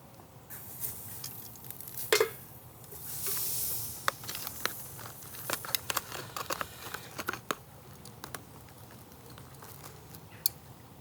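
Pork and Bramley apple sausages sizzle quietly in a pan outdoors beside a carp fishing pond, giving a soft, steady hiss broken by scattered small pops and spits.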